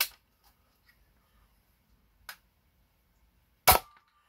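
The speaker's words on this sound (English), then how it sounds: "and then it will fire a mega dart" An Artificial Armory Minikey rail-mounted blaster fires a mega dart: a faint snap, then a sharper crack, then one loud, close pop with a short tail, all separated by near silence.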